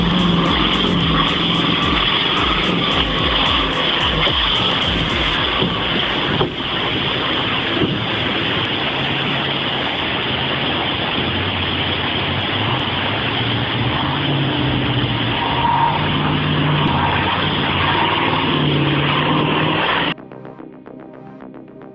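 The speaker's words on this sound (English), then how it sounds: "The Ural 4320 doesn't drive through rivers, it conquers them." A Ural 4320 military truck ploughs through a river, its engine roar merged with loud, steady rushing and churning water that dominates throughout before dropping away abruptly near the end.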